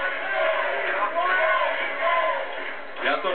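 A crowd at an MMA fight roars and cheers loudly and steadily through the whole moment, a dense wall of voices with a louder swell near the end.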